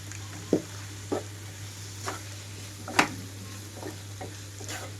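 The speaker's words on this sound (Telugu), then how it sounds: "క్యాలీఫ్లవర్ చిక్కుడుకాయ ముక్కలు వేసేసుకుంటున్నాను" Cauliflower and broad bean pieces sizzle in a pan with salt and chilli powder, a low steady frying hiss broken by several sharp scraping stirs at irregular intervals, close up and without speech, over a constant low hum.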